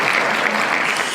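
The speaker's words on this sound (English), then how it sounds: "Round of applause." An audience applauds steadily in a dense, even wash of clapping, continuous and fairly loud for a brief moment at a talk show.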